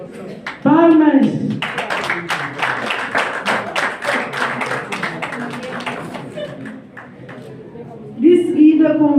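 A crowd at a journalism graduates' diploma ceremony claps in a steady burst that fades out, with a presenter speaking just before and just after.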